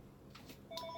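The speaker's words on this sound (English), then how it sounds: "God damn that phone. It rings every freaking time" A telephone rings briefly and faintly, a short electronic tone heard once over low background noise.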